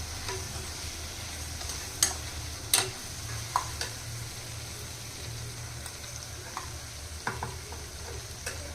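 Raw mango curry is stirred in a pan with a steady low sizzle underneath, while a few sharp spoon scrapes and taps land at scattered moments. No one speaks.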